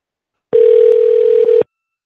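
A steady telephone dial tone sounds continuously for about a second, loud and alone, heard while placing a call.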